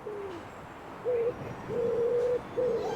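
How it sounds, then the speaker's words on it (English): Birds call in urban scrubland at Ashburton Wood, London: short, clear hooting notes, one drawn out, repeated a few times at moderate distance over a soft background hum. "A wild place, with bird song through tangled branches"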